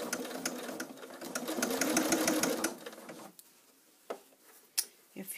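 Sewing machine stitching binding along a bag's thick side seam, a fast rhythmic mechanical ticking for about three seconds that then stops, followed by a few faint clicks and handling sounds.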